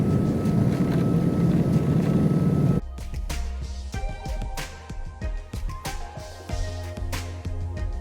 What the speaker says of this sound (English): Now we land at Chennai Airport.